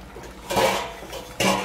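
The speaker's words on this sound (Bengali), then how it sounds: "দেখেন ঢাকাটা এবার আমি খুলে নেবো।" A lid lifts off a pot of simmering fish curry with potatoes and vendi, giving two short metallic clanks, the second sharper, over quiet bubbling.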